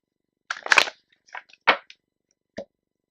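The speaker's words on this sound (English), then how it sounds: "Alright, one more shuffle." Tarot cards are shuffled by hand in a few short, crisp bursts of riffling and slapping, close and fairly loud, separated by pauses of quiet.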